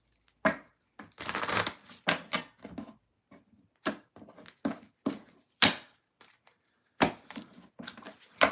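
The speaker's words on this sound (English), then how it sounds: "Thank you for being patient while I shuffle" Tarot cards shuffled by hand in irregular bursts of crisp riffling and soft slaps, close and fairly quiet, with short pauses between the flurries.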